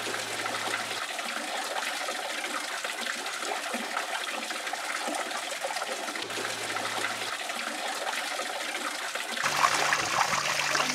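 Spring water trickling and dripping down the moist sandstone edges of a Florida ravine, a steady quiet watery wash that grows slightly louder near the end.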